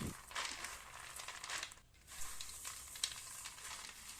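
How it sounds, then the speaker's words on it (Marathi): Roasted peanuts, browned to a reddish tint, rubbed together in a bowl to loosen their skins, giving a continuous dry rustling and crinkling with brief pauses. "आता याला एका बॉलमध्ये टाकून त्याचे शिल्ट काढून घेऊ"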